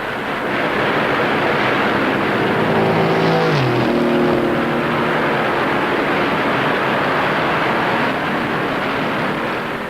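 Race cars lap the Daytona speedway, a loud sustained engine roar with one car sweeping past about midway, its pitch dropping as it goes, backed by constant crowd and track noise.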